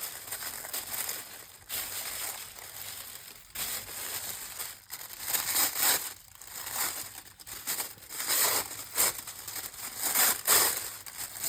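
Patterned heart paper is handled and crinkled up close in bursts of crisp rustling and crumpling, with short pauses between.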